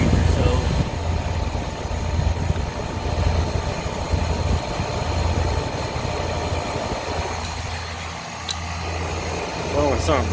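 A process chiller's condenser runs steadily with a broad, continuous mechanical hum and whooshing airflow, a low droning rumble throughout that holds even and close.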